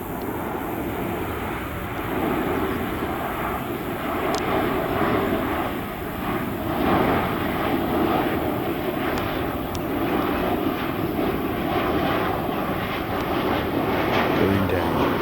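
A passenger airplane coming in to land near an airport, heard from a public footpath at Hampton in Arden: a loud, sustained jet engine roar overhead that swells and lingers for the whole stretch.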